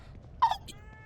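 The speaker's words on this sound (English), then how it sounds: "it's another kitty cat that's bringing me things" A cat in The Evil Within 2 gives a single short meow, brief and fairly close, followed by a faint second chirp over a quiet low background hum.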